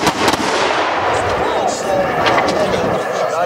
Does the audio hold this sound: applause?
no